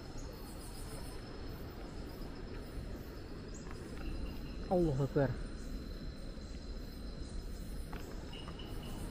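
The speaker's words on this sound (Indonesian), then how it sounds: "Suara-suara itu loh, walang kerik." Walang kerik insects chirping along a steep forest trail near a waterfall on the slopes of Mount Slamet, a steady high insect drone running throughout beneath a brief spoken phrase and outdoor ambience.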